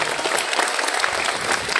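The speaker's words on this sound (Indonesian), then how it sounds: "Kasih tepuk tangan dulu untuk mereka." An audience at a school opening ceremony breaks into dense, steady applause, many hands clapping together close and loud throughout, with no voices on top.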